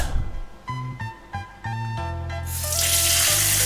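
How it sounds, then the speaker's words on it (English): Water gushes from a bathroom tap in a Thai house, starting after a few short clunks and tonal squeaks of the fixture, then running steadily as a loud hiss to the end. "Water does indeed run."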